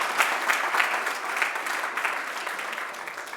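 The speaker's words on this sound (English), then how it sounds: "Applause." An audience at an Arduino Day 2019 community challenge award announcement claps steadily, a dense, moderately loud burst of applause that tapers off slightly toward the end.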